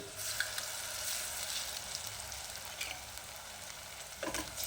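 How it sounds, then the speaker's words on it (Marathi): Ginger garlic paste frying with soft onions in a pan for a Kolhapuri white curry, a steady close sizzle with faint stirring scrapes and a brief clatter near the end. "आलं लसणाचा कच्चा वास जाईपर्यंत आपण ही परतून घ्यायची आहे"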